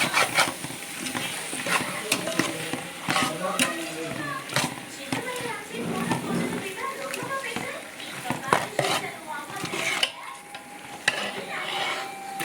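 Sambar masala with radish and drumstick being sautéed and stirred in a large pot for fifty servings, with frequent scraping and clanking stirs over a soft sizzle, and people talking and children's voices nearby.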